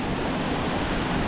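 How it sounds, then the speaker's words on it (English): Wahkeena Falls in the Columbia River Gorge, Oregon, gives a steady broadband roar of falling water, loud and continuous, heard alone. "We are at Wahkeena Falls, another fall along the Columbia River Gorge."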